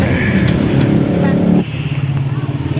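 An angkot minibus drives through Jakarta, its engine droning low and steady close by while people talk over it, and the motor note drops partway through.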